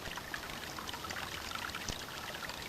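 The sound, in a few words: spring water pouring while filling a water filter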